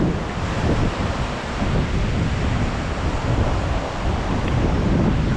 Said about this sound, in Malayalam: തണുത്ത കാറ്റിങ്ങനെ മേത്തിങ്ങനെ അടിച്ചിടിച്ച് പോകുന്നുണ്ട്.